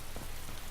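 Steady rain falls in the DayZ video game, a soft, continuous patter of drops on surfaces with no break in it.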